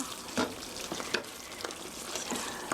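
Pork rice bowl ingredients stirred together in a hot pan, a steady sizzling fry with a few soft scraping strokes of the spatula at irregular intervals, close and moderately quiet.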